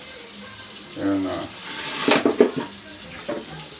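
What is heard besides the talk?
running water while washing up in soapy water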